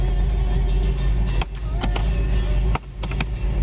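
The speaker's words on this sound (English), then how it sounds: "Touch the key, she fires right up." A 1971 Ford Torino with a 460 V8 runs with a deep, steady idle rumble, broken by a couple of sharp clicks and brief dips as it settles, close and loud with no voices.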